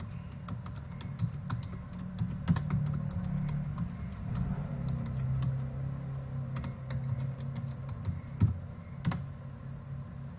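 Computer keyboard typing on a PLC trainer setup: scattered clicky keystrokes in irregular bursts over a steady low hum, close and moderately quiet, with no speech.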